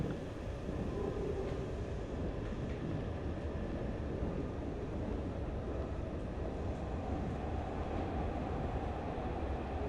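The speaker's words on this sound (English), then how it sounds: "it's a very nice, clean subway car." Inside a subway car in the video game Platform 8, a steady low rumble of rolling wheels and rattling carriage fills the space continuously, moderately loud and unchanging, with no voices.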